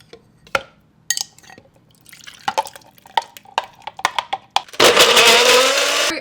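A NutriBullet blender holding almond milk and sweetened condensed milk: a run of sharp clicks and knocks as it is assembled, then a loud, steady high-pitched whir of the motor blending for the last second and a half, close up with no talk.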